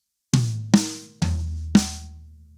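A slow drum fill moves across the rack tom, snare and floor tom: four separate, evenly spaced strokes, each ringing out briefly, with no talking.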